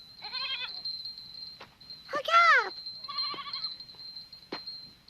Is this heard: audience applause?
no